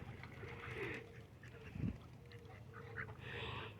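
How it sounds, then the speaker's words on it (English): Ducks, including white ducks, approaching near water where birds are being fed, with soft quacking and splashing in a steady outdoor background, plus a brief louder burst midway. "Now the white ducks are coming over here."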